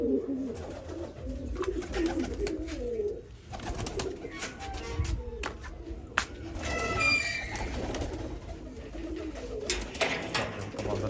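A pair of pigeons coo steadily up close in a loft, their low rolling calls repeating throughout with scattered clicks and rustles around them.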